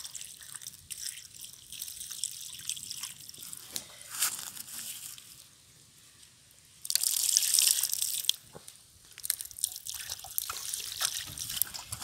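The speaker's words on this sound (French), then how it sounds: "Donc on va mettre un coup d'eau quand même" Water is splashed and poured over an electronic casing pulled from a river by magnet fishing. It trickles and drips in uneven bursts, with one heavier, louder pour midway, close by and without talk.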